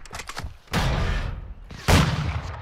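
Call of Duty Warzone 2 gunfire: two loud, sharp bursts about a second apart, each trailing into a noisy decay, following brief fainter crackling.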